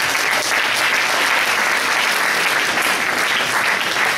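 Steady, dense applause from a church congregation in Italy, filling the space evenly without breaks and with no voices rising above it.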